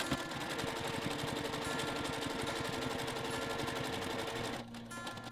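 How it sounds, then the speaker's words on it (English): A sewing machine stitches a Bali-inspired boho bag, a fast even mechanical whirr with rapid needle rhythm running steadily, then stopping near the end. "I'm just going to stitch right over the top of my stitches following that line again"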